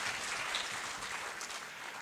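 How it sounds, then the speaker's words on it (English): Audience applause for a commissioner at a public gathering, a steady hiss of many hands clapping throughout, fairly quiet and distant, with no voices over it. "Let's give him a bigger hand clap."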